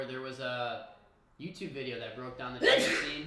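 A single sharp sneeze bursts out near the end, close to the microphone, right after someone speaks conversationally.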